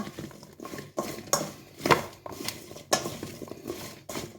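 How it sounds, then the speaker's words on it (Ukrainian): A spoon clinks and scrapes against a bowl in uneven, repeated strokes as meat is mixed with dried garlic, close and fairly clear, with no talking. "Все це перемішую."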